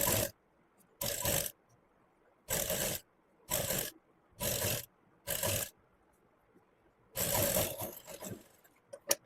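A sewing machine runs in six or seven short bursts while stitching around the corner of a V neckline. Each whirring run lasts under a second, separated by brief silent pauses, with a longer burst near the end.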